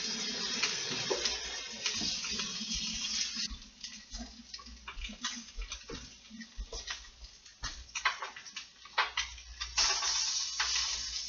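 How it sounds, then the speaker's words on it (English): Tap water running in a kitchen sink as greens are rinsed in cold water, a close patter and splash with uneven ticking drips and handling sounds, no talking. "When you're rinsing or washing your vegetables, your greens, you want to use cold water."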